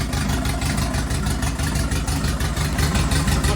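A Ford Fiesta MK1 engine idles steadily with no cooling fans, a loud, even low rumble with a regular pulsing beat that holds unchanged throughout.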